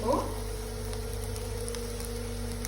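Masala frying in a pan for a prawn dish gives a steady, close sizzle with faint stirring, holding even throughout after a brief louder scrape at the start.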